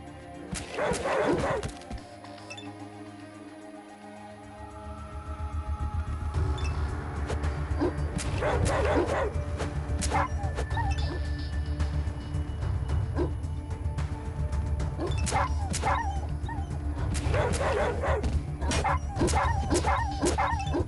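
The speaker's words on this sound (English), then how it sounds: "Oh my god, the dog's nearly dead." Dog in the video game Atom RPG yipping and whimpering in repeated bursts over a steady background drone of game ambience, with clusters of sharp barks spaced across the clip.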